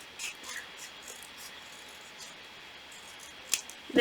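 Scissors snip through paper while trimming the white edge of a paper Pacman squishy, a few quiet, brief cuts near the start and a sharper crisp snip toward the end, close by with no talking.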